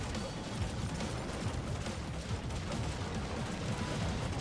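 Gunfire in the Skylanders Superchargers video game, a dense continuous crackle of rapid shots amid busy game noise at moderate volume, without pauses.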